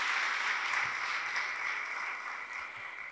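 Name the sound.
congregation applause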